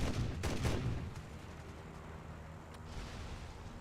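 Cannon fire from a P-39 fighter plane in the video game War Thunder, a couple of quick heavy bursts near the start that fade into a low engine rumble.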